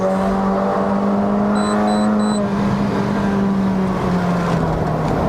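A tuned Honda City Hatchback 1.5L (GN5) with modified exhaust and CVT in manual mode drives hard up a mountain road, its engine droning loud and steady from inside the cabin as the pitch climbs, dips slightly, then climbs again.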